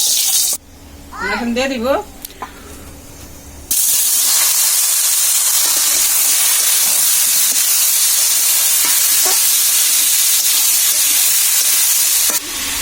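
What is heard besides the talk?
fennel and mustard seeds frying in oil for pineapple chutney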